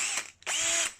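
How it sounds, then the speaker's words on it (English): A Makita DHP 458 cordless drill runs in two short high-pitched whirring bursts close up, revving briefly, stopping, then spinning again. "It is the DHP 458 Makita, so that's a nice little drill."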